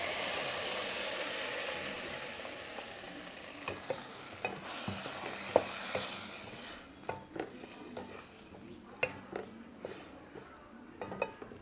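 Freshly ground homemade masala paste is added to a hot pan and sautéed, with a sizzling, frying hiss, then scraping stirs and sharp clinks of a utensil against the pan that grow more frequent as the sizzle fades.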